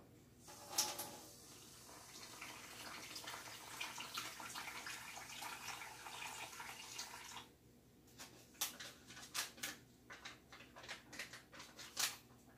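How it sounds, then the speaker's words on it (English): Tap water runs from a kitchen sink into a plastic MRE pouch, a steady faint trickle for several seconds, then stops and gives way to scattered small taps and rustling handling noises. "I'm going to use my sink to kind of fill it"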